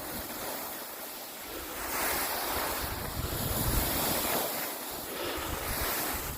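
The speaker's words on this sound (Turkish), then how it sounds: "Hava kapalı, soğuk rüzgar esiyor" Strong cold wind buffeting the microphone in a steady roar at Erciyes Ski Center, with gusts swelling and easing; no voices.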